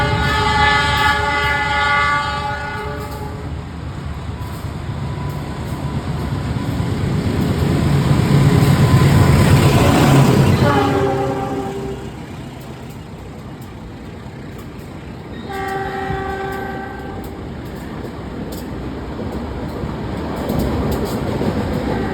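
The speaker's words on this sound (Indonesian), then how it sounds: "Pelangsiran kereta api Progo, kereta ekonomi terlaris dari Jakarta ke Jogja ya teman-teman." The Progo economy train, hauled by locomotive 203, shunts at a station with a loud, steady rumble of rolling cars and several long horn blasts, swelling as it passes close by.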